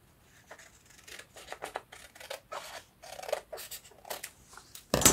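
Scissors snip through paper while cutting ephemera for a junk journal, a close series of quick irregular crisp cuts and rustles, ending with a louder sharp snip.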